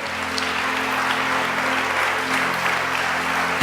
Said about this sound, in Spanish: Denle un aplauso fuerte al Rey.